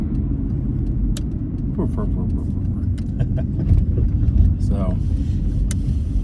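A Honda Civic rolls along a road with a steady low engine and tire rumble, someone talking over it throughout.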